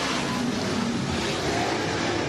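Race cars roar around HOT Speedway, a loud, continuous engine drone that stays dense and unbroken throughout.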